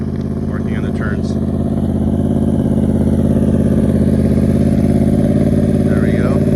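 A Yamaha R1 motorcycle idles and rolls slowly during a riding lesson, its engine giving a steady, close, low throb with mild clatter that holds level throughout.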